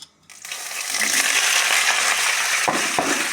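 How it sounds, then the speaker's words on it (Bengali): Flat beans and potato are tipped into hot oil in a pan, setting off a sudden loud, close sizzle that holds steadily, with a couple of clunks from the pan or utensil toward the end. "এবার সবজিগুলি ঢেলে দেব।"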